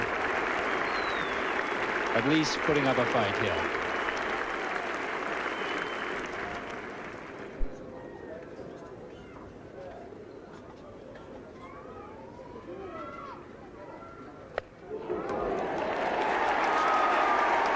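A Yorkshire home crowd at a cricket Test match cheers and applauds a batsman reaching 200, a broad roar and clapping that fades into commentary talk before another burst of applause rises at the end.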